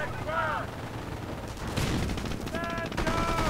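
MG42 machine gun fire in a World War II strategy game battle, a steady mid-level stream of rapid bursts mixed with broader gunfire and combat noise, with brief harmonic whines between volleys.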